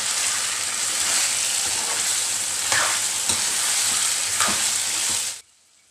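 Chicken with a tablespoon of coriander fries in a karahi while being stirred, giving a continuous loud close sizzle with periodic scraping strokes of the spoon, then the sound cuts off abruptly.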